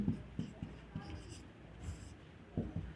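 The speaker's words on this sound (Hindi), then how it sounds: "हम पार्ट बाय पार्ट यहाँ पर लिख रहे हैं।" Chalk or marker strokes on a board during a Class 9 maths lecture: faint, irregular scratchy taps and short scrapes in small bursts, with soft background noise.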